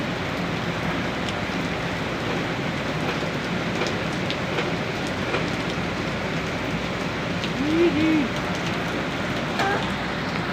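Heavy rain pours down in Mariveles, Bataan in a dense, unbroken hiss, with a few faint distant sounds buried underneath.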